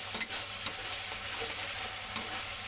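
Spices sauté in a pan for a spicy rohu fish curry, a dense continuous sizzle with a few soft stirring knocks, close and steady with no talk.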